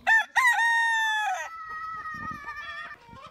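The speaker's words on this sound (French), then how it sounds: "Nous sommes à l'intérieur d'une exploitation de poules de Barbezieux et nous sommes en compagnie de Jean-Marie" A Barbezieux rooster crows loudly and close on a poultry farm, a long harmonic call, followed by softer clucking from Barbezieux hens nearby.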